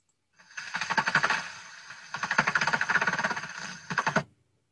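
Daubenton's bat echolocation calls heard through a heterodyne bat detector near water: two long runs of very rapid, dry clicking pulses like fast ticking, fairly quiet and steady, with a short gap between runs.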